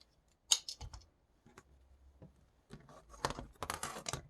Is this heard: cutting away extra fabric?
yes